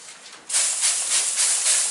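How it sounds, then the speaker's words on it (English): Water squirted into a hot oven at about 375°F flashes into steam while sub buns bake, a loud, close, steady hiss that surges abruptly and pulses slightly. "squirt to get some steam"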